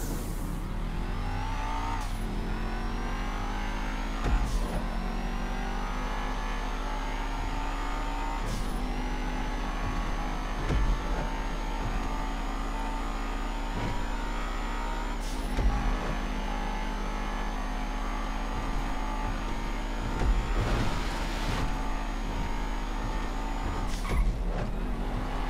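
Race cars accelerating in a GTA V video game race: a steady engine drone that keeps climbing in pitch through repeated gear changes, with sharp shifts about every four to six seconds and no voices.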